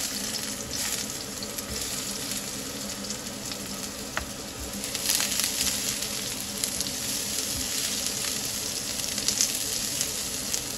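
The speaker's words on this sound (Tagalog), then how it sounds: "Magigisa na tayo ng bawang," Garlic, onion and ginger sautéing in a hot pan, a dense, steady sizzle that swells slightly about halfway through, with occasional clinks, up close and with no voices.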